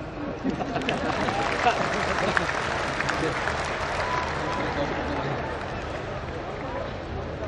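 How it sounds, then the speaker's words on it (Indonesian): A large audience at the opening of the Indonesian farmers' and fishers' national gathering claps after the chairman's speech, a dense, even roar of applause held steady throughout. "Boleh tepuk tangan."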